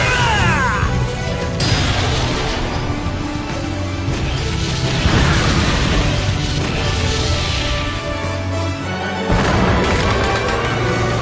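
Final Color Blaster attack from Sonic Colors: a loud, continuous barrage of crashing, whooshing blasts and impacts with several sharp bursts, sustained over about eleven seconds with no pause.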